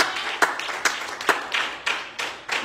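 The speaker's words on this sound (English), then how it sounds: "Will you clap your hands unto the Lord?" A church congregation claps hands at a service, a loose rhythm of sharp claps repeating roughly every half second and moderately close, with no talk over it.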